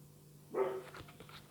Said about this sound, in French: j'ai le chien qui aboie